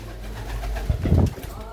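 Pigeons at a pigeon keeper's home give a short burst of soft, low cooing, close by, with some background noise around it.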